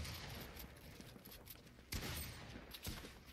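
Fortnite gunfire crackles in a steady spread of shots, with a couple of sharper, louder reports standing out, all fairly faint in the mix.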